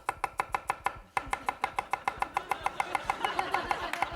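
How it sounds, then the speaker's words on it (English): A knife chops bell pepper, onion and mushroom on a cutting board in rapid, evenly spaced crisp strikes, close and loud, with a short pause before the quick rhythm resumes and speeds up. "we're going to cut up some bell pepper, onion, and mushroom"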